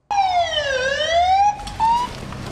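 Electronic wailing alarm siren sounding loud and continuous during a school security drill, its pitch sweeping down then up, then shifting to a steadier warbling tone near the end.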